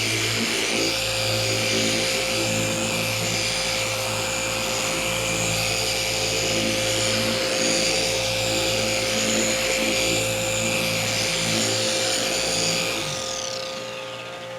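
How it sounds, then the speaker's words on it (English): A polishing machine runs at low speed, spreading polish across a pad in a steady, loud, droning whine with a slow pulsing swell that carries on alone for several seconds before winding down. "I'm going to start at like a speed 2 to 3 to kind of work the polish"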